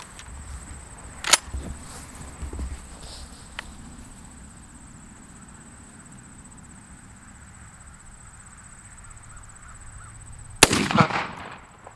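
A shotgun fires a Federal Speedshok BB load during pattern testing with an Impala Plus choke. Two sharp, isolated bangs ring out, one early and a louder one near the end, separated by a long, quiet stretch.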